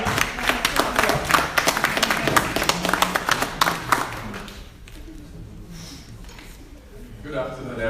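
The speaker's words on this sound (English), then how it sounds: "Please give him a round of applause." An audience at a Nigerian community safeguarding conference claps loudly for a speaker for about four seconds. The clapping then fades, and a voice begins talking.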